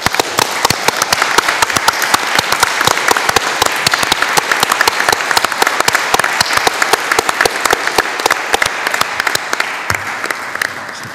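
Audience applause fills a ceremonial hall in the Palazzo Ducale, a dense, steady burst of many hands clapping at close range that carries on for about eleven seconds with no talking over it.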